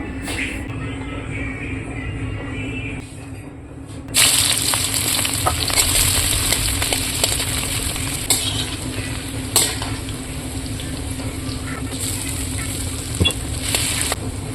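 Steady crackling sizzle of onions frying in a pan, with occasional scraping and stirring clinks, close and continuous after a quieter start.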